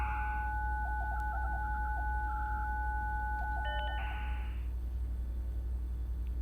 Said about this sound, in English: Yep, the 5 hours of dial-up.